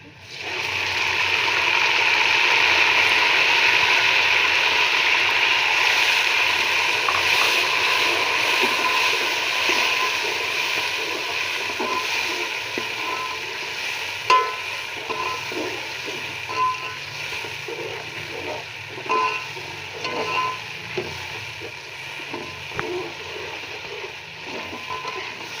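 Ginger, garlic and green chili paste frying with browned onions in a pan for a chicken and green bean curry, a steady loud sizzling hiss that softens slightly over time, with a few clinks near the end.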